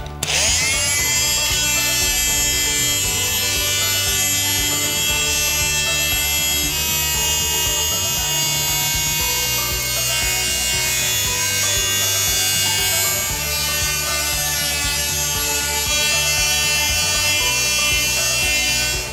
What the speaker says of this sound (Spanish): vamos a pasar una lija de grano fino, dejaremos la superficie suave